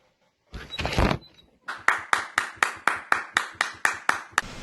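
Hands clapping in a steady run of about ten sharp, evenly spaced claps, loud and close, coming after a brief burst of rustling noise, in a PlayStation player's rage moment.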